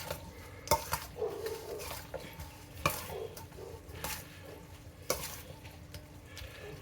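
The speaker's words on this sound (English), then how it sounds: "Now I want that cheese stirred in with that pasta, that nacho cheese." Pasta being stirred with nacho cheese in a pan for homemade hamburger helper, with soft sizzling and occasional sharp clinks of a utensil against the pan, quiet and close.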